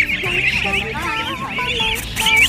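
Eighteen-day-old goslings peep in a continuous high, wavering chorus at a crowded rural market fair, close and fairly loud, with faint crowd murmur underneath.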